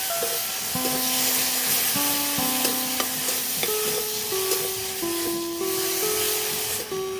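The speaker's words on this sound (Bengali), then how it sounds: "দিয়ে আমি নাড়াচাড়া দিয়ে দিলাম" Tadka masala and garam masala fry in a pan for a vegetarian Bengali tadka dal, a continuous hissing sizzle with occasional stirring scrapes beneath steady background music.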